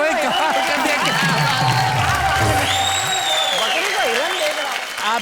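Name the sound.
audience loud applause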